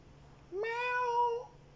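A cat gives a single clear meow, close and drawn out for about a second, in an otherwise quiet indoor room.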